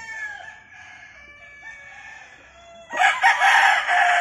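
A bullstag rooster crows, a thin call at first and then a loud, close cock-a-doodle-doo that bursts out near the end, with no talk over it.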